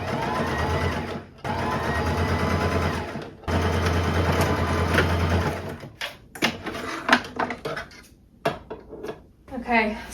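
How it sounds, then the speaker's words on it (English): A sewing machine straight-stitches a sleeve onto the armhole of a boho top made from a thrifted skirt, running in steady bursts separated by short pauses, then giving way to lighter intermittent handling clicks. "now we can attach the sleeve to the body of the top by just doing a straight stitch around the arm"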